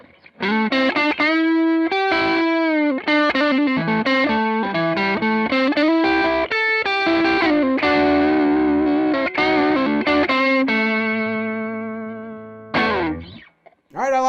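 Electric guitar through a Wampler Moxie overdrive pedal with the gain set halfway, playing driven chords and sustained notes loudly and continuously before the final chord rings out and fades.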